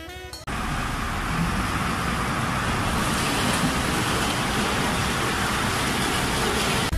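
A white-and-black street sprayer tanker truck drives past on a road, a steady broad roar of engine and tire noise that swells to fill the scene after an abrupt start, with no talk.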